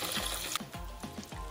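Food being rinsed in water gives soft splashing and trickling, a few gentle sloshes close by, quiet and with no talking.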